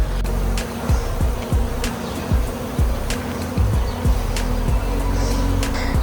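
Honey bees buzz around open hives in a steady droning hum, with passing motor-like swells as individual bees fly close past, no talking.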